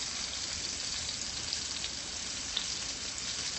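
Skirt steak frying in a pan gives a steady, dense sizzle with faint crackles and occasional pops, running evenly throughout at moderate level with no voices.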